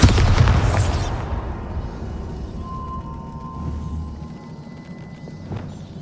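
A heavy boom from the Bombarda blasting spell in the game Hogwarts Legacy hits loudly at the start, then rumbles and decays into a quiet ambient tail with a faint tonal hum.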